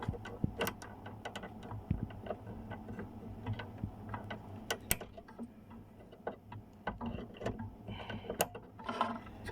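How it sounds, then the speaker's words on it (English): An IC socket removal tool being forced onto a chip on a computer motherboard, giving a steady stream of small metallic clicks, scrapes and ratcheting ticks, close up and continuous throughout. "this is a proper IC socket removal tool"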